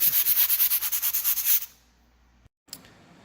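Rapid, rhythmic hand sanding of concrete countertop edges scrapes back and forth about a dozen times, close and loud, then stops abruptly, followed by near silence and a brief knock.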